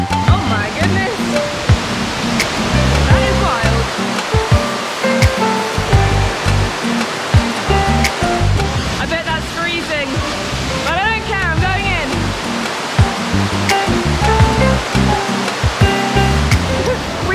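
A waterfall roars continuously on a hike near Jardin, Colombia, a loud dense rush of falling water with splashing, while people talk and call out over it.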